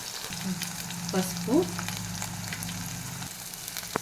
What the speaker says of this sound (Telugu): అల్లం వెల్లుల్లి పేస్ట్ వేసి బాగా వేసుకోవాలి.